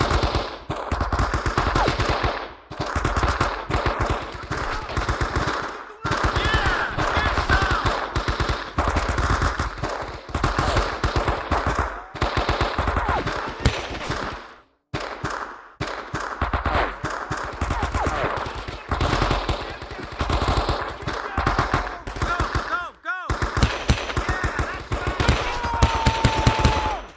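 Sustained machine gun fire in the war video game Men of Valor, dense rapid bursts running almost continuously with a few short breaks, loud and close, with faint voices mixed in.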